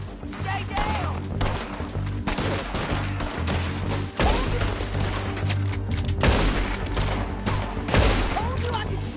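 Rapid gunfire from a Red Dead video game shootout, shots crackling in dense bursts throughout alongside a steady low musical drone, with loud volleys near 4, 6 and 8 seconds.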